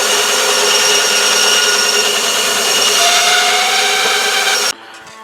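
A power saw buzzes steadily through wood while cutting a freehand wavy design around nails for a knife display stand, loud and continuous before cutting off abruptly near the end.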